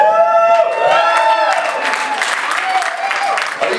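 Comedy show audience applauding, dense steady clapping with some cheering mixed in, loud and close throughout the short stretch.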